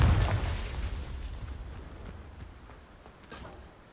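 A Confringo blasting spell in Hogwarts Legacy explodes with a heavy low boom at the start, then a rumbling decay fades out, with a brief bright crack near the end.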